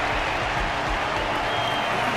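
Dense, sustained applause from a large crowd at a fight match, loud and continuous for the whole stretch, with no one speaking.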